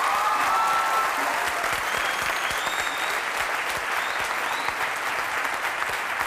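A studio audience claps steadily on a Dan Shilon TV talk show, a loud, dense, even patter that holds for several seconds with no talking over it.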